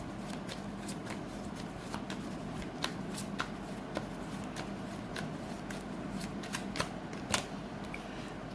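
Tarot cards shuffled and drawn by hand, with steady close riffling and soft snapping flicks running throughout, no voices.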